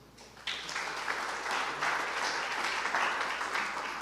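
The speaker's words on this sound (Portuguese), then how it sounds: "Vamos aplaudir Jesus?" A church congregation applauds during a sermon, clapping starting abruptly after a quiet moment and swelling into steady, moderately distant applause with rhythmic accents.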